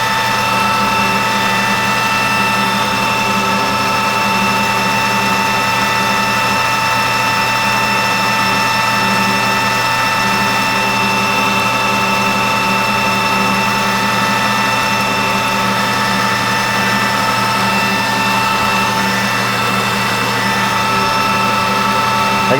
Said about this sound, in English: Leaded stock is really nice on cutting like this.